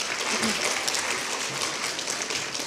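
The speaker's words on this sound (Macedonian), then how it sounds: "Еден аплауз за овие вредни ученици" An audience clapping for award-winning students at a school celebration, a dense continuous applause lasting a few seconds at steady moderate loudness, with no talk over it.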